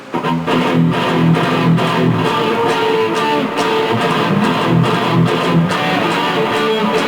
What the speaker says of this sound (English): Lately, a big part of metal is the breakdown.